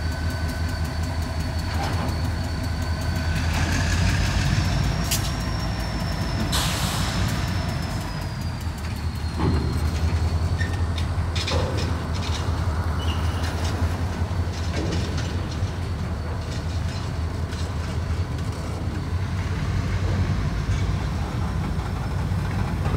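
Train cars pulling back out onto the main line during switching in the rain, with steady rumbling, wheel clatter and squeal, and sharp clanks from couplers and rail joints throughout.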